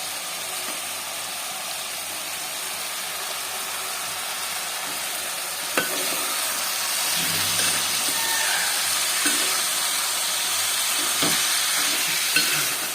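Potatoes, carrots and green peas frying in a pan for aloo kurma, a steady close sizzle and hiss running throughout with occasional stirring clinks and scrapes, no talking.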